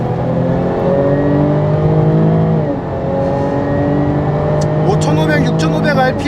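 A Jaguar F-Type P380 engine with sport exhaust engaged revs up hard toward 6500 RPM, pitch climbing steadily with a throaty exhaust roar, close and loud, briefly dipping before rising again.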